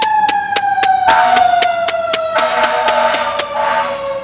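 Fire truck siren passing outside, a loud, steady wailing tone sliding slowly downward with a rapid repeating pulse, filling the whole stretch with no talk over it.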